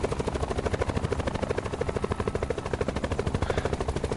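Helicopter in the Black Ops 4 Blackout video game, its rotor thumping in a steady rapid rhythm, loud and close throughout, with a dense mechanical roar underneath.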